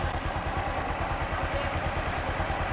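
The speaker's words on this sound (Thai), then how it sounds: "ลองฟังเสียงเครื่องยนต์นะครับ" A Honda Wave110i 2021 motorcycle engine with an aftermarket exhaust idles steadily with a low, even rumble and light mechanical clatter, running close by without revving.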